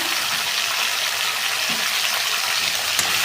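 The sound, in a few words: prawns frying in a pan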